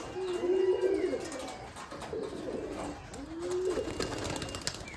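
Giribaj pigeons coo close by in two distinct rolling bouts, soft and throaty, over a faint background of other birds and ambient noise.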